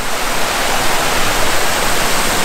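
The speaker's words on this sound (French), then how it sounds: "avec cette magnifique petite cascade ici." A small waterfall spills into clear water in a natural landscape, giving a loud, even, continuous rushing hiss close by, with no talking.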